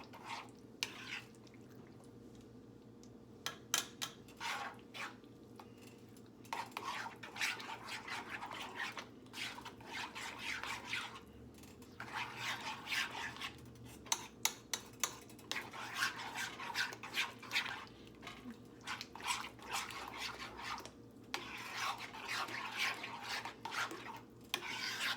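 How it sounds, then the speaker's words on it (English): Spaghetti being stirred and mixed in a pot with a garlic parmesan fettuccine-style sauce, a steady close scraping and rubbing with rhythmic utensil strokes, the same motion repeated over and over with no talking. "Giving it a good stir, a good mix."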